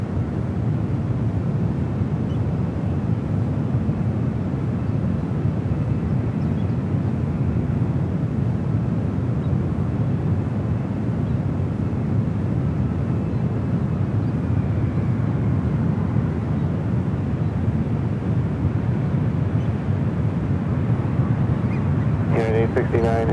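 A United Boeing 777 jet approaches runway 28 left at San Francisco International Airport, a steady, distant broadband roar mixed with wind buffeting the microphone, while radio voices talk throughout.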